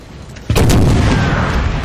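Artillery fire from Napoleonic cannons on a Napoleon: Total War battlefield at the Battle of Znaim, one sharp, loud boom that rolls on into a sustained rumble.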